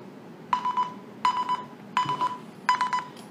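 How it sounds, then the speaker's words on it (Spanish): An iPhone rings after being triggered by a D18 smartwatch's find-phone function, giving four repeated bursts of electronic tone in an even rhythm. The sound is moderately loud and close, with no talking. "Mi iPhone está haciendo ruido."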